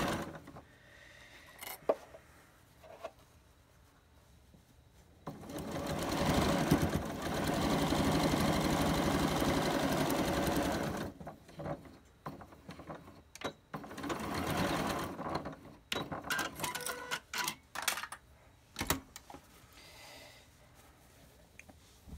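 A sewing machine stitches a fabric mask: quiet handling noises, then a long steady run of rapid mechanical stitching, followed by shorter stop-and-start bursts of stitching.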